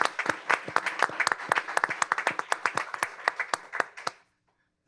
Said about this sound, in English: let's give all of our panelists another round of applause